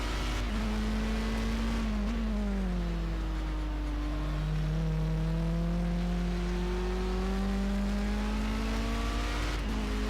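A GT3 race car engine in Project Cars at Watkins Glen holds a steady, loud note that drops and then climbs gradually as the throttle is fed in, continuous for the whole stretch with no talk.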